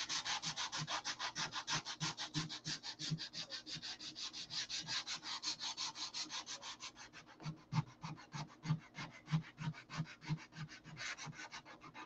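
Sanding a P-47 model canopy by hand: a continuous, rhythmic rubbing scrape of rapid back-and-forth strokes, close and steady throughout, briefly slowing into heavier strokes partway through.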